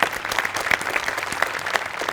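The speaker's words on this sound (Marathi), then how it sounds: "त्याच्यासाठी एकदा टाळ्या." A studio audience at a Marathi comedy show bursts into loud, sustained applause, with many hands clapping densely for the full stretch.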